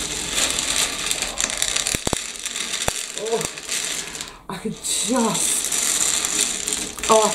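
Hands running through harvested dried beans and chickpeas, giving dry rattling, clicking pours in bursts, with a brief exclamation from a speaker partway through.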